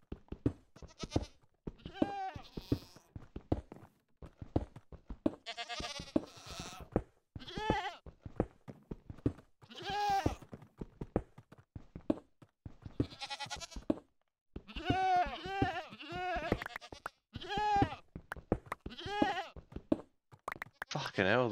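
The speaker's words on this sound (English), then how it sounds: "Fucking hell, these goats!" Goats in the Minecraft video game bleat over and over, their wavering cries mixed with a person talking loudly and a few knocks.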